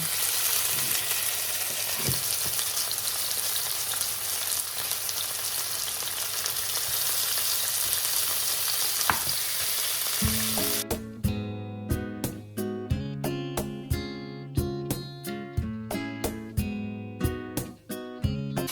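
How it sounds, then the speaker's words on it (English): A pork chop fries in a hot pan with a dense, even sizzle for about ten seconds before music with plucked notes takes over the rest. "so the pan is already hot, so we will fry our pork chop, and we want the pork chop to be golden"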